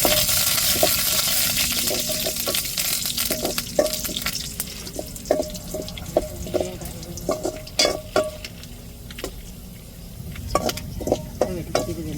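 Fenugreek seeds and curry leaves sizzle and crackle in hot oil while a spoon stirs and scrapes the pan, tempering for a stingray fish curry, with steady frying hiss and irregular metallic stirring knocks close by.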